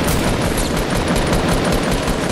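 Video game gunfire: a loud, dense, unbroken burst of rapid automatic shots that rattles on steadily from start to finish, with no talking over it.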